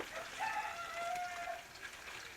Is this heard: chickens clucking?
yes